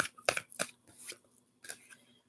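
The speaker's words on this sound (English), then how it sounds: "And one more shuffle." Soft papery flicks and slaps of tarot cards being shuffled, a few quick bursts, close and fairly quiet.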